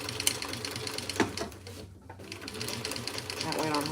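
A sewing machine stitching a fabric divided basket, running in bursts of rapid mechanical clatter close by, with a brief pause in the middle; a voice talks over it.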